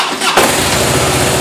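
A 2007 Harley-Davidson Fat Boy motorcycle engine cranks and fires up, catching after a short starter whir into a loud, close, throbbing V-twin idle with a steady rapid pulse.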